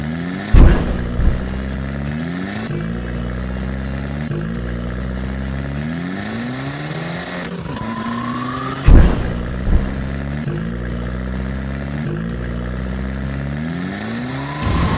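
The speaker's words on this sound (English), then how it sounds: "What a powerful monster truck we have!" A monster truck engine revving hard, with repeated rising pitch sweeps that fall back, loud and close, broken by sharp thuds and clatter from landings or impacts; no voices.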